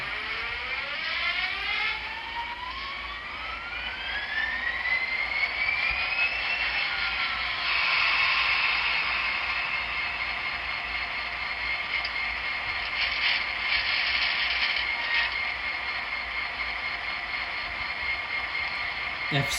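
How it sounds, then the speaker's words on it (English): Sound effects from an N scale Broadway Limited SD40-2 Norfolk Southern high-hood model locomotive: a rising whine as the prime mover starts up, then a steady mechanical diesel drone with rattling and creaking, moderately loud and continuous. "F6 was our prime mover startup here."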